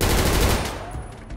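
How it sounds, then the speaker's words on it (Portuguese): Burst of gunfire from a GTA 5 roleplay game session, loud and dense at the start then thinning over a second or so, with no talk over it. "Vou dar uns tirinhos lá também, tá ligado?"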